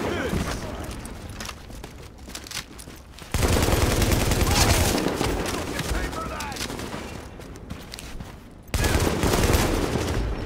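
Heavy gunfire in The Division's Dark Zone, loud sustained bursts of automatic fire filling the scene, with a voice talking over the shooting.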